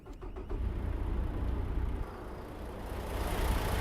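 Truck engine in American Truck Simulator starts up and settles into a low, steady rumbling idle, with a few brief clicks at the outset and the engine growing slightly louder toward the end.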